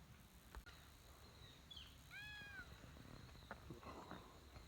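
The neighbor's cat lets out a single short, clear meow amid faint outdoor background noise on a cold, damp, rainy day.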